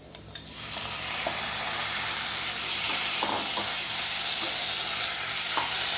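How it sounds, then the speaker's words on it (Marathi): Mutton pieces hit a pan of green masala paste and burst into a strong, steady sizzle that swells and holds, with faint scraping as the meat is stirred. "आता ह्यामध्ये मी मटण घालते"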